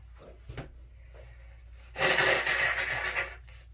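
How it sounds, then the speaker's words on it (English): A person blows their nose with a short, loud, wet honking burst lasting over a second, preceded by a few quiet sniffs and rustles, close to the listener. "I'm blowing my nose."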